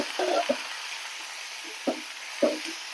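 Bean leaves frying in a pan, a faint steady sizzle running throughout, with a few short stirring scrapes standing out and no talk.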